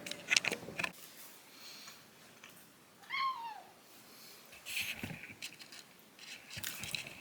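Cats meowing in a home, with a drawn-out meow partway through among faint clicks and rustles, fairly close but quiet, with no talking.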